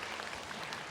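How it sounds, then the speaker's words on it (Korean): Church congregation clapping warmly to welcome a Hispanic pastor during a Sunday service, a short, steady burst of applause from a crowd at moderate distance. "우리 같이 한번 따뜻한 박수로 히스패닉 목사님 우리 같이 한번 격려해드리겠습니다"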